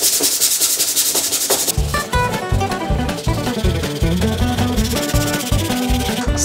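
Someone sands a scale RC Land Rover Defender 110 body with 220-grit sandpaper, producing close, rhythmic rubbing strokes in a steady back-and-forth pattern.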